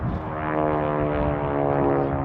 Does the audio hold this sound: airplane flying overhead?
yes